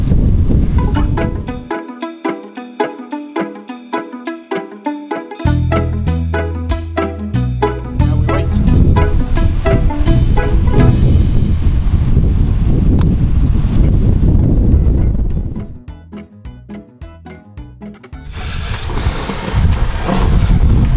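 Strong wind gusting through Glen Etive in the Scottish Highlands, a loud, steady roar that buffets the microphone for most of the stretch and eases briefly before surging again, with no voices.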